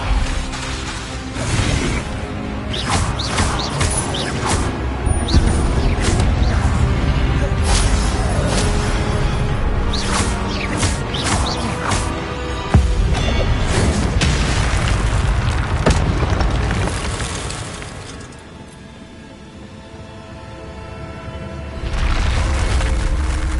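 Spells such as Levioso and Expelliarmus are cast in Hogwarts Legacy, giving repeated loud magical bursts, booms and whooshes over a dense, continuous game soundscape that dips briefly into a quieter lull before surging again.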